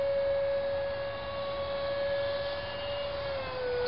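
A scratch-built L-39 model jet's electric ducted fan motor gives a steady, high-pitched whine that holds its pitch and then drops slightly near the end as the motor slows, running alone at moderate loudness.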